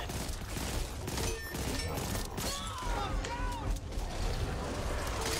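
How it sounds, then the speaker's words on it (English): Bursts of gunfire crackle through a zombie-shooter round of Back 4 Blood, dense volleys of shots and impacts under a busy mix, with voices talking over the action. "Shoot him, please."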